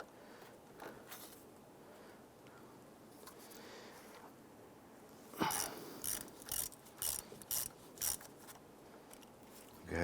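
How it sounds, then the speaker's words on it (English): An 8mm socket ratchet clicks in quick repeated bursts, loosening the negative battery terminal on a 1995-2001 Ford Explorer, close and fairly faint after some soft handling noises. "We're going to start by disconnecting the negative side here using an 8mm socket."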